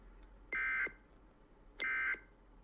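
Two identical electronic emergency broadcast tones from Call of Duty Modern Warfare 2 Remastered, each a steady buzzy beep lasting about a third of a second, spaced over a second apart against a quiet background.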